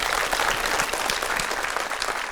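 A studio audience at a children's television show claps loudly and continuously, a thick wash of applause that holds steady for the whole brief moment.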